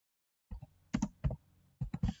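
Keys on a computer keyboard clatter in short bursts of a few quick taps each, separated by brief pauses, close and clear against silence.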